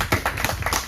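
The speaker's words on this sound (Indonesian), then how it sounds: "Kita beri tepuk tangan dulu." A short burst of audience hand clapping at a film screening discussion, several quick close claps in under a second.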